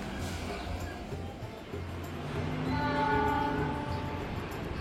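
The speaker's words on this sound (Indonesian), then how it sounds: "masuk kereta api Tegal Bahari" Tegal Bahari passenger train pulling into track 4 at a Javanese station, a low steady rumble building as it nears, with a sustained horn tone rising over the approach.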